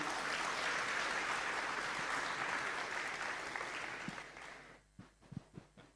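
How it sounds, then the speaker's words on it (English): An audience at a tech summit keynote applauds a speaker, a dense wash of clapping that fades out over several seconds, leaving a few scattered claps at the end. "please, a round of applause for our Pam"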